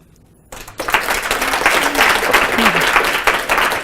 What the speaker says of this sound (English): I think I'm applauding everybody.